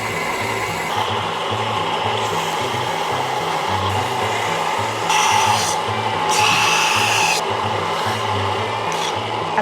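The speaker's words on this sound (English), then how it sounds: "Then we'll just do the same sanding routine that we did with the coaster." Sanding a wooden fence picket by hand, with a repeated rasping, rubbing stroke in a steady back-and-forth rhythm, close and prominent. Brief louder scraping bursts appear midway, and no one talks.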